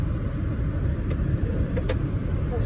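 Car engine idling while warming up on a snowy October day, a steady low rumble heard from inside the car with a couple of faint clicks.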